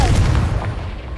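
Confringo blast spell in Hogwarts Legacy, a loud booming explosive burst that fills the short moment and rumbles off quickly.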